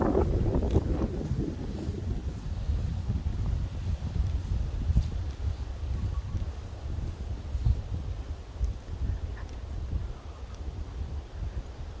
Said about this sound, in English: Ooh, it is breezy.